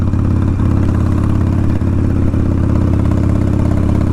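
A motorcycle engine runs loud and steady with a throbbing mid-range drone during a chilly February ride, close and constant with a few faint clicks.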